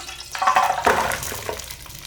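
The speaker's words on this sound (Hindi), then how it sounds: "2 चम्मच पानी डालेंगे।" A short splash and gurgle of water being poured into a pan of hot oil and jaggery, brief and close, with a soft sizzle as it settles.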